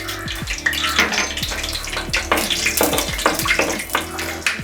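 Mustard seeds sizzle and crackle in hot oil in a traditional kitchen, a dense continuous frying hiss with sharp popping bursts throughout, close and fairly loud.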